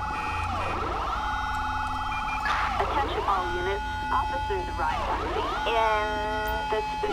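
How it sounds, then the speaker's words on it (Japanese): A police car siren in the video game GTA5, a steady wailing and yelping siren that rises and falls continuously at close range, with a voice talking over it. "よし、じゃあちょっとあとサイレン消してこようかな。"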